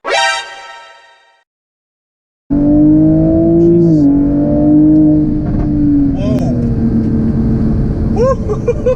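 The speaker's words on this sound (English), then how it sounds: "We're in 4th gear, 45, and I'm just gonna floor it." A 2020 Toyota Supra with a stage 2 tune bursts to full throttle in 4th gear after a brief hush, its engine roaring loud and steady as revs climb, with a faint whistle and flutter sounds near the end.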